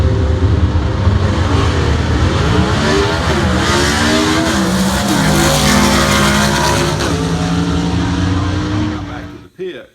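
A drag racing gasser truck roars loudly through a full run, its engine note sweeping and shifting steadily before dropping away at the end, with a voice talking over the engine noise.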